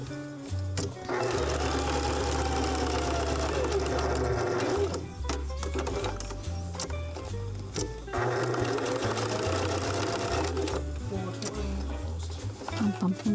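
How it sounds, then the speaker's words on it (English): A sewing machine stitches a quilt in two long, steady runs of whirring, rattling motor noise, close and loud, split by a short pause with a clatter. A voice talks under the machine in places. "I might as well do some quilt stitching for this stuff."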